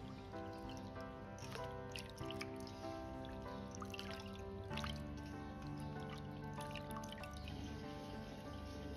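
Pork liver being rinsed by hand in a bowl of clean water, soft continuous trickling and dripping with gentle splashes, quiet and close in a home kitchen.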